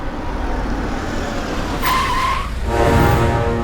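A car skids with a sharp, sustained tire squeal over a rumbling engine, followed by another rougher skid as the vehicle lurches to a stop, loud and close.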